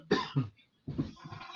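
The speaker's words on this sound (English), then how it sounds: "Excuse me for a moment, but I've got a cough." Two sharp coughs in quick succession from a man leading a daily devotion, close and loud, followed after a short pause by a rougher, throaty cough or throat clearing.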